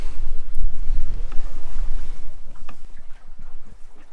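X-Yachts X5.6 sailboat under sail, with a loud rushing of water along the hull and buffeting wind noise, heaviest at first and easing toward the end.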